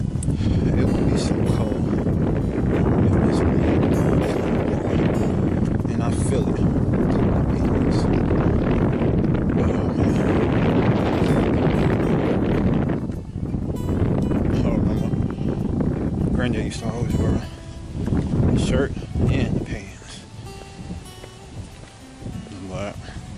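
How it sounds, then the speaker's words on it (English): Gusty outdoor wind buffets the microphone during a cold walk, a loud continuous roar that eases after about thirteen seconds into choppier bursts, with someone talking over it. "it wouldn't be so cold if this wind wasn't blowing"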